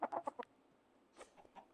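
Chickens in the Minecraft video game cluck in a quick burst of short clucks, then there is a pause and a few more scattered clucks. They are close and fairly quiet, with no talk.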